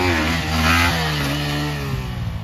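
A KTM Duke 390 motorcycle revs hard during a wheelie, giving a loud, steady, buzzing engine roar that rises slightly in the middle and then holds, with no talk.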